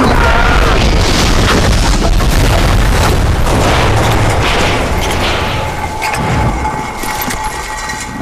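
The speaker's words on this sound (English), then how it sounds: "I'm shooting the TNT now" TNT sticks blowing up after being shot in the Western shooter Call of Juarez: Gunslinger, a loud booming blast with rumbling debris that fills the whole stretch before slowly tapering off.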